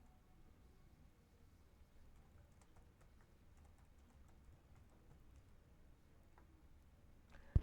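Soft typing on a computer keyboard, a faint, uneven patter of key taps in a quiet room that ends with one sharper click.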